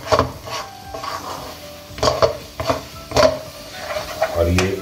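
Rice mithai with ghee being stirred in a pan over medium heat, a spoon scraping close and loud in irregular strokes, with occasional clinks against the pan.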